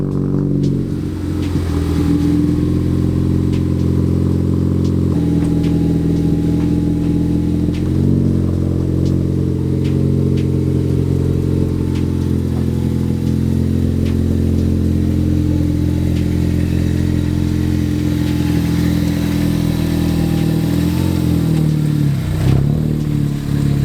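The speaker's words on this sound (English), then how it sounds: "we're gonna get it up to temp, fill her up" A Ford Focus ST fitted with a custom oil cooler idles steadily while warming up, its low engine drone close and continuous with faint mechanical clatter and slight shifts in pitch throughout.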